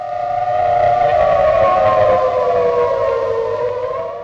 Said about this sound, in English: the wail of the siren carried its own unique psychological weight